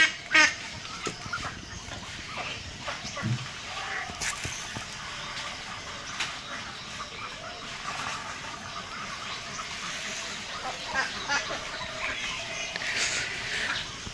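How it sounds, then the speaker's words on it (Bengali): Ducks quack softly in a rain-soaked front yard of a rural home on a cloudy morning, with faint, scattered calls over quiet outdoor ambience. "এই যে হাঁস বের হয়েছে"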